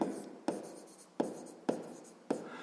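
A pen or pencil writes out a math solution on paper, giving five crisp taps that each trail into a scratchy stroke. Steady and close, with no talk.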